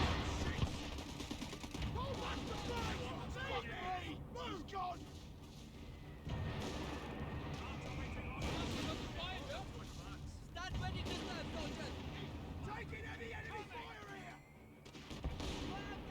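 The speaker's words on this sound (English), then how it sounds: "Right, that's firing on me." Artillery barrages and small-arms fire from the World War II strategy game Company of Heroes 3 rumble and crack in dense, overlapping bursts throughout, with a voice talking over the battle noise.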